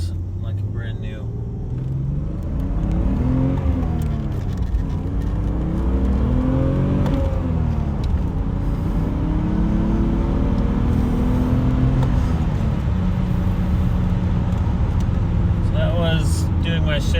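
A 1990 Alpina B10 Biturbo accelerating through the gears, its engine note rising and falling in repeated sweeps as it pulls and shifts, steady cabin rumble underneath, with someone talking over it.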